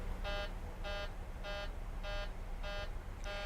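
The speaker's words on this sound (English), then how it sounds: "We hit that and it's not silencing the alarm" Master caution alarm in a flight simulator game on an approach into Phoenix: a harmonic buzzing tone pulsing in six evenly spaced bursts, about two per second, steady and loud over a low hum with no voices.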